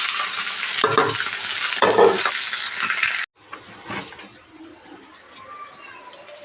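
Rice is fried and stirred in a hot pan, loud sizzling broken by scraping spoon strokes, then a sudden drop to a quieter sizzle with soft clinks near the end.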